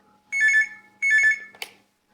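A telephone rings twice in loud electronic bursts for an incoming call to a phone-in radio program, then the receiver clicks as it is picked up.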